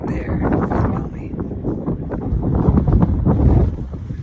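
Wind buffets a microphone outdoors on a high California lookout, a continuous low rumbling roar that swells and gusts, loudest toward the end, with no other clear sound.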